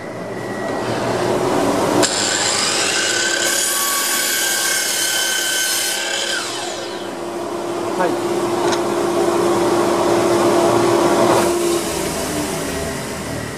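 A slide miter saw with a zero-clearance insert and fence spins up and cuts through wood, a loud steady whine with rising saw pitch and a long grinding cut, then winding down near the end.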